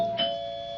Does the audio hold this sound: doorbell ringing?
yes